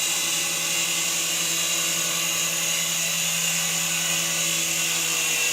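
A small beginner RC helicopter flies at full throttle, giving a steady, high-pitched motor whine and rotor buzz that holds close and constant throughout, with no speech.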